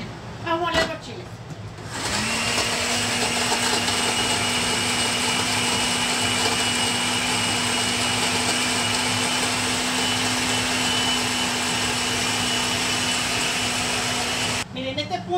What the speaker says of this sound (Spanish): vamos a moler los chiles para la longaniza